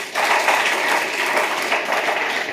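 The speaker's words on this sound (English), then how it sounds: "Clap for her again." An audience at a school career day applauds in a dense, even burst of clapping that holds steady throughout, close and fairly loud with no voices on top.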